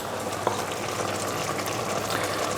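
Worcester sauce splashes into a cooking pan of sausage and chorizo pasta sauce with vegetable stock, a short wet spatter over a continuous sizzling, bubbling background.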